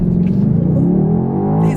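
A 2020 BMW X6M Competition engine builds revs with the brake held for a launch, a loud, steady, rising rumble close by with no talk over it.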